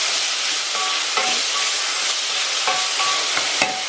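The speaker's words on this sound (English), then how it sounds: "I'm just going to mix that together like that." Pork stew is stirred in a hot pot, giving a constant sizzling hiss with several sharp utensil scrapes and clicks against the metal at irregular intervals, up close.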